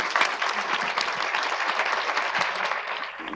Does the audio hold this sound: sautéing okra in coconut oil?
no